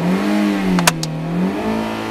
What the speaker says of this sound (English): But listen to the engine.